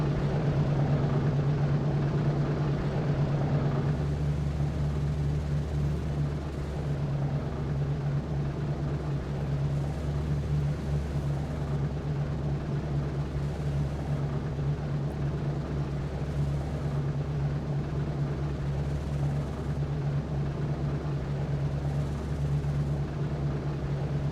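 B-17 bomber taxiing to the runway in a flight sim, a steady low piston-engine drone holding constant with a faint higher hum, continuous and fairly loud, no voices.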